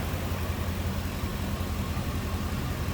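A 2005 Ford Excursion SUV engine idles steadily and evenly, a low smooth rumble close by with no voices.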